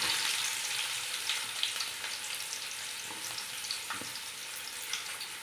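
Chopped onion with finely minced ginger and garlic frying in a pan for fried rice, giving a steady, moderately loud sizzle with a few faint pops and no voices.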